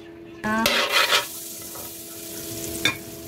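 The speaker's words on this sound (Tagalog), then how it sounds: "Lagyan lang tayo ng butter. Tigas ng butter. Tunawin lang natin" Cold, hard butter going into a pan to melt for buttered shrimp, heard as a brief sizzle and scrape of a utensil against the pan, followed by a quiet, steady background and one more faint clink near the end.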